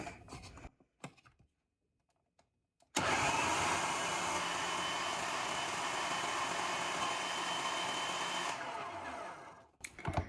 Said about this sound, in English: This is a food processor, by the way, just in case you don't know.